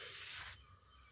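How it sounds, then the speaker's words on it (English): Olive oil misted from a spray bottle onto breadfruit before charcoal grilling, a steady close hiss lasting about half a second, then cutting off to quiet background. "so I spray olive oil"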